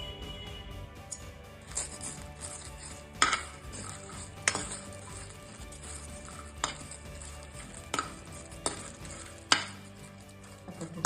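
Dry red chillies roast in a pan for a pumpkin seed chutney, with a quiet low sizzle beneath repeated sharp clinks and scrapes of a spoon stirring against the metal at irregular intervals.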